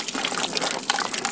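Tomatoes pour into a big steaming pot of Brunswick stew with a steady, close, continuous liquid gush and splash that lasts the whole moment.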